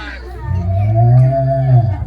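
A person's voice imitates a cow's moo, one long low drawn-out call lasting about two seconds.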